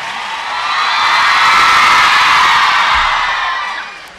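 An audience applauds and cheers for the performers of a 2014 orchestra concert. The loud crowd roar swells, holds for a couple of seconds, then fades away.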